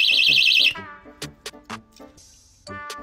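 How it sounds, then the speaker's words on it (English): A piercing, warbling electronic alarm shrills for under a second and cuts off, followed by a few short clicks and tones. "A personal alarm and flashlight in case your child is in danger and needs to be heard."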